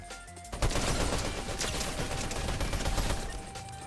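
Rapid gunfire crackles in Fortnite, starting faintly and then bursting into a dense, sustained volley of shots lasting several seconds, fairly close and loud with no talking.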